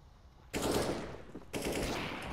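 Two bursts of rapid automatic gunfire in the video game CS:GO, each starting abruptly and rattling on at close range, the second following about a second after the first, with no talking.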